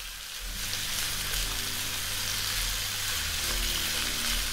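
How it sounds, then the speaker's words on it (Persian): Potatoes sauté in oil in a pan over low heat, steady sizzling and frying, a continuous crackling hiss at an even level with no one speaking. "روی حرارت ملایم خیلی با آرامش تفت میدیم."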